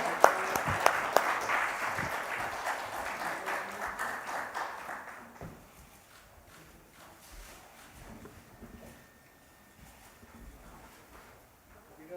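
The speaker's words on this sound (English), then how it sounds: "Please put your hands together." Audience applause fills a conference hall at a national mental health survey launch, loud and dense for about five seconds before thinning out to scattered claps and quiet room noise.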